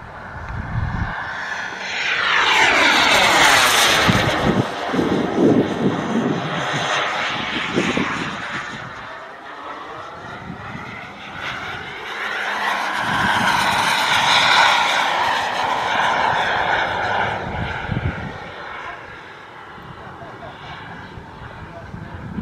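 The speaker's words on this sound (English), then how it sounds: "That's how fast this jet's moving." A Ranger jet from Boomerang Jets flies past at the Warbirds and Classics Over Fredericksburg 2024 airshow, its loud engine roar swelling and fading twice with a Doppler sweep, with crowd voices faintly underneath.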